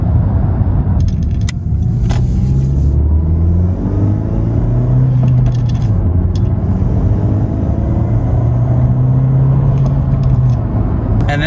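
A Honda Civic Type R engine and intake revving, a loud close throaty rumble rising and falling in several sustained revs with no talk.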